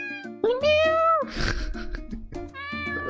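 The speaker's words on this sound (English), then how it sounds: "Wait, these are cats? Yeah, these are cats." Cats in Rakuen meow several times in a row, clear and close, with a brief rustling burst in the middle between the calls.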